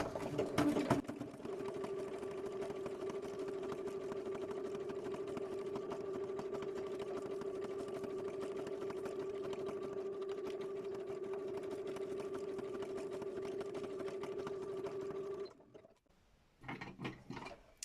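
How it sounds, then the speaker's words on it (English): A domestic sewing machine running a steady zigzag stitch for about fifteen seconds, a continuous even mechanical whir with a faint rhythmic chatter, close and alone, stopping near the end before a few quiet handling clicks. "So I've got a zigzag going, so I'm going to just crazy stitch now"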